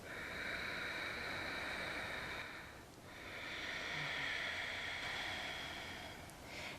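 Ujjayi yoga breathing: two long, hissing breaths drawn through a constricted throat, soft and close like a gentle ocean rush, with a short pause between them and no talking.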